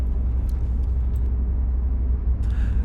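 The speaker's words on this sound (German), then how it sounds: "Wir fahren jetzt hier auf der A92, wenig Verkehr, lässt sich gut fahren." Steady road rumble of a camper van cruising along the A92 motorway in light traffic, a continuous low drone with engine and tyre noise close by and no talking.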